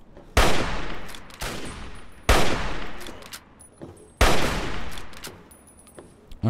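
Three loud, sharp gunshot blasts in the video game Fallout 3, spaced about two seconds apart, each trailing off into a long echoing decay, with no talking.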